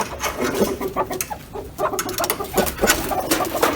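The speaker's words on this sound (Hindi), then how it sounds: "परी और न्यू मुर्गे को भी हमने बाहर निकाल लिया है" Several chickens cluck and chatter in short, irregular bursts, close by, with scattered bird calls and rustling in between.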